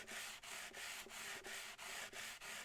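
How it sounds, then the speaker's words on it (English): A sanding sponge held at an angle scrubs up and down over the sharp fret ends of a Bigfish concert ukulele, making steady, loud abrasive strokes in an even rhythm of about nine passes with brief gaps between. "I hold the sponge at a 45-degree angle and I sand up and down until I stop hearing it so much"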